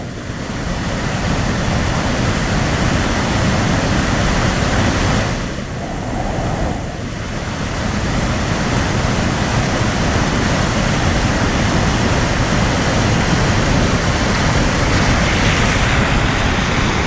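A monsoon-swollen river in flood in the Konkan region surges under heavy rain, producing a loud, steady, broadband roar of rushing water that dips briefly midway before continuing unbroken and close, with no voices.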